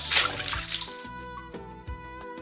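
Water splashes and trickles as hands wash the face during wudhu, close splashy bursts at the start, then running water with light dribbles and a few soft splashes.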